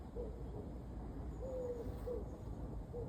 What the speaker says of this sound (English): Oh, I can hear a wood pigeon somewhere.